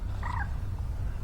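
A moorhen gives a short, clipped call by the water, brief and moderately near over a low, rumbling outdoor background.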